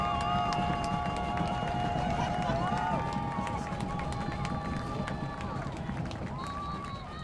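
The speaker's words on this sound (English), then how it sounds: "How about some noise, Eagles fans? And they're getting loud up in here." Loud crowd of Eagles fans roaring at a high school football game, with whistles and scattered claps over a steady wall of cheering that eases slightly toward the end.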